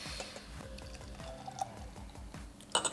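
Beer being opened and poured into a glass: a steady trickle of liquid with light drips and clinks, ending in a brief bright fizz or clink, with no talking.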